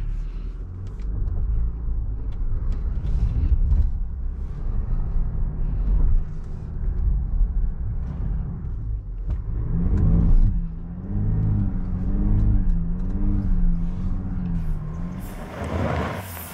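A 2022 Land Rover Defender 90 D200 pulls away and accelerates on a steady engine drone heard from inside the cabin, the pitch rising and falling with a smooth rev swell near the middle before easing off.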